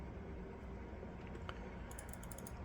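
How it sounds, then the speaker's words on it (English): Faint computer mouse clicks while refreshing a server browser in a Call of Duty game, a few light clicks in the second half over a steady low background hum. "Just clicking refresh"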